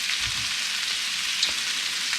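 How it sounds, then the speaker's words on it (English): Beef fat sizzles and crackles in a hot pan while rendering into tallow, a steady hiss with a few small pops, close by and alone. "So we can hear it starting to sizzle away"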